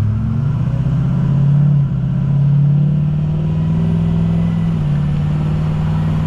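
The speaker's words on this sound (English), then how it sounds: "Definitely hear the turbo." A 6.0 Powerstroke diesel truck engine with a turbo drones loudly and steadily under driving load, with its pitch dipping briefly near two seconds as the transmission shifts, then settling again.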